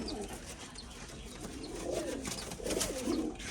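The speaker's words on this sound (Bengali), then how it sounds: "পায়রাগুলো এখন ব্যাগে ভরা হচ্ছে একটা করে করে" Newly bought pigeons coo softly as they are put into bags one at a time, with a couple of low rolling coos near the end over quiet background noise.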